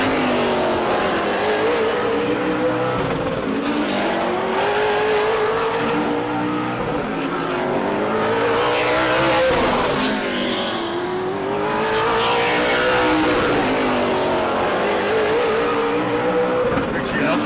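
A Super Late race car laps Auburndale Speedway in qualifying, its engine loud and close with rising and falling revs through the corners, and a commentator talking over it throughout.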